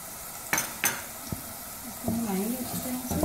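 A spoon stirs yogurt into a potato and egg curry in a pan, with a couple of sharp utensil knocks against the pan, then soft scraping and a gentle sizzle, close and fairly quiet.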